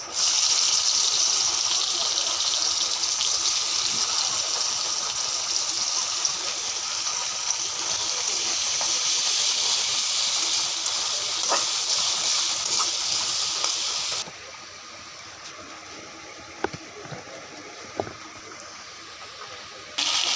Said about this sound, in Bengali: আদা রসুন দিয়ে ভালো করে ভেজে নিব